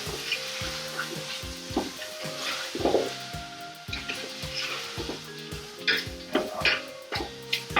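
Onions frying in a pan for a coconut chicken dish, a steady close sizzle broken by repeated scraping and clinking stirs of a utensil against the pan.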